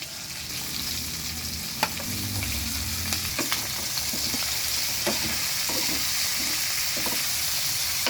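String beans sizzle and crackle as they stir-fry in a hot pan, a steady frying hiss broken by occasional clinks and scrapes of the stirring utensil.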